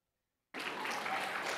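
An audience at an elementary school graduation bursts into applause after a moment of silence, a dense, sustained clapping that starts abruptly and continues evenly to the end.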